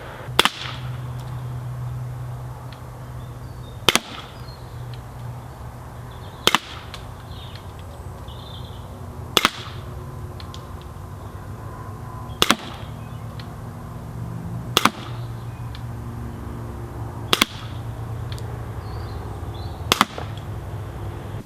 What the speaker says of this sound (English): When you have finished shooting, the hammer stays back, ready for another shot.